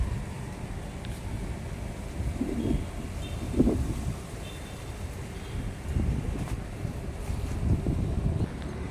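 Wind gusting under a guava tree in front of a hospital, a steady rushing buffet against the microphone with swelling low surges, loud and close, no voices.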